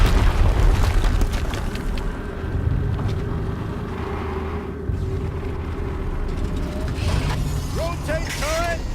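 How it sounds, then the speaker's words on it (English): A loud, rumbling explosion in Horizon Zero Dawn booms at the start and decays into a sustained low roar of rumbling machinery. High whistling tones rise near the end, with no speech over it. "Another explosion."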